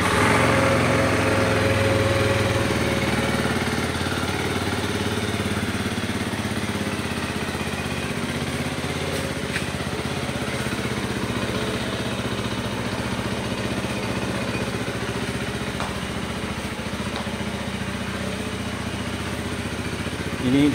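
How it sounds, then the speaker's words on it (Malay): A 2019 Zontes 310T single-cylinder motorcycle engine fires up and settles into a steady, close, buzzing idle that runs evenly for about twenty seconds. "Ini dia punya bunyi Zontes 310 satu silinder."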